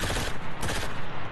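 Rapid bursts of submachine gun fire from the video game Enlisted, dense overlapping automatic shots rattling loud and close with no pause across the short stretch.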